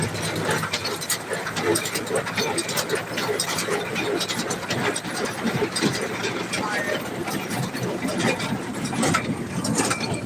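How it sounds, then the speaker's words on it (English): A tractor engine runs steadily during hay baling, with a continuous mechanical rumble and rattle close by while people talk over it. "I'm going to have him turn the tractor around and start baling with the baler over here"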